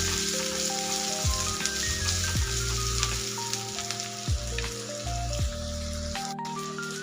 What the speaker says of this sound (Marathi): मी इथं मोठ्या आकाराचा एक बारीक कांदा कट करून घेतलेला आहे। किंवा आता तेलामध्ये जाईपर्यंत कलर चेंज होईपर्यंत आपल्याला परतून घ्यायचं आहे